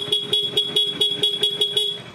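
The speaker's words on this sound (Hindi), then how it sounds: "हॉर्न को स्विच दबाते हैं डायरेक्ट हॉर्न साउंड करता है" A motorcycle horn sounds in rapid repeated beeps when its switch is pressed, about ten short evenly spaced toots in quick rhythm, close and clear with no talking over it.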